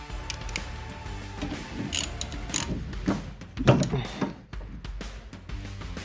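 Ratchet clicks and metallic tool handling while a bolt is loosened on a Mazda MX-5 NB, close and irregular, with short bursts of mechanical clatter.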